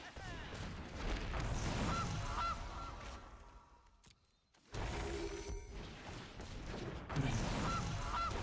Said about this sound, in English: Alright, tossing our Goose into play.